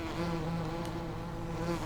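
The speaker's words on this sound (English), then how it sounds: "bees will start to come out of these two as well" Buzzing insects in a video game, a swarm of bees emerging from two hives, droning steadily at moderate loudness with a faint tonal hum underneath and no talking.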